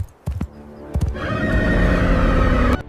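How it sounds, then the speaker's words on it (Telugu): A horse gives a loud, sustained whinny in front of a cave. A few sharp thuds come first, then the neigh carries on strongly for nearly two seconds and ends abruptly. "ముందు ఆగి పెద్దగా సకిలించింది."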